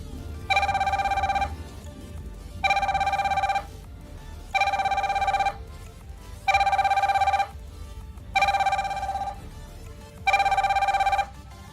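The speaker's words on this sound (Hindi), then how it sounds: "दोबारा से कॉल डायल की है दूसरे मोबाइल से।" An HY Ultra 2 smartwatch rings with an incoming call: six evenly spaced bursts of a bright electronic ringtone repeat in a steady pattern, moderately loud and with no talking.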